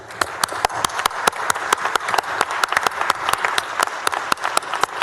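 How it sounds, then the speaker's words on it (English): Applause fills the Texas Senate chamber, a steady mix of many hands with sharp individual claps standing out in a fairly even rhythm, close and moderately loud for about five seconds. "I would ask you all to join me in applause for these wonderful folks"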